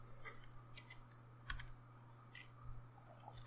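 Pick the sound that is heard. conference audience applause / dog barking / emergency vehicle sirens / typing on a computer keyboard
typing on a computer keyboard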